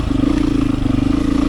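A KTM 300 two-stroke dirt bike idles close by in a parking lot, a loud, steady, rapid burbling pulse with no talking.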